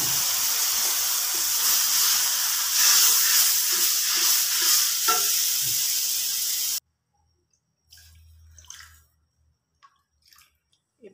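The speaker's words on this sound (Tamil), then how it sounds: "இப்போ இது கொதிக்க வச்சுட்டேன்." A steady, loud sizzling and bubbling of stingray fish gravy cooking in a pan, cutting off abruptly, followed by a few quiet clinks and stirring sounds.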